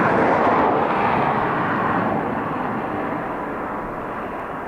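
A departing airliner on Dublin Airport's runway 10R produces a loud, broad jet engine roar that is strongest at first and then fades gradually as the aircraft moves away, with no voices.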